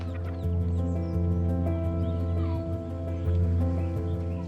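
Poultry chickens kept on a small family farm cluck and murmur together close by, their soft repeated calls layered over a steady low hum.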